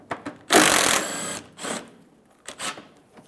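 A 10mm bolt being removed from the bumper of a 2008-2017 Mitsubishi Lancer, heard as loud close bursts of a tool whirring and ratcheting, one long burst followed by several shorter ones with brief pauses between.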